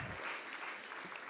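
An audience applauds for an honoree at a Clinton Global Initiative event, a continuous wash of clapping throughout the brief moment.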